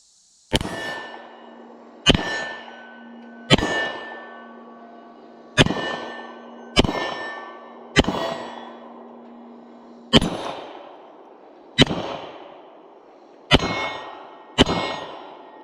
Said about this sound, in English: let's take this bad boy outside and ring some steel